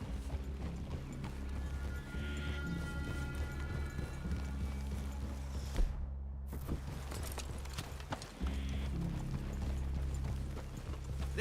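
Horses walking through a forest clearing in Red Dead Redemption 2, a steady clip-clop of hooves over low ambient music and rustling, with a brief dropout midway before the plodding resumes.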